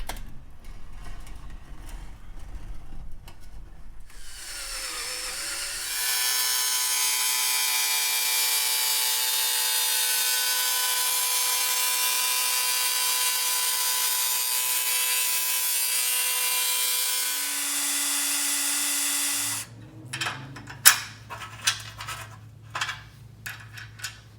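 A portable bandsaw mounted in a chop saw miter box cuts through wood, a loud steady whine with a faint tonal edge that runs about fourteen seconds, framed by clattering handling knocks before and after.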